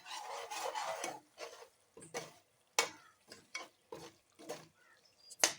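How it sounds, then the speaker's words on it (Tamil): A spoon stirs mutton biryani masala with cumin-seed rice in a pot: close, gritty scraping and rubbing strokes in irregular bursts separated by short pauses, with no talk. "நல்லா கைவிடாமல் இந்த மாதிரி மிக்ஸ் பண்ணுங்க"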